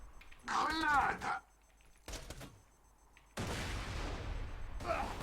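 A grenade blast in the video game Borderlands 2, a sudden broadband burst of noise that follows a short voice and lingers briefly, rough and full-bodied.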